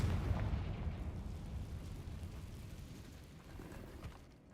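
A Confringo fire spell bursting in Hogwarts Legacy, a deep rumbling explosion that is strongest at the start and slowly fades out over several seconds.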